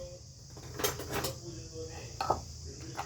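A spoon taps and scrapes against a metal sieve while flour is sifted at home, giving a few light clinks and rattles close by as a voice speaks over them.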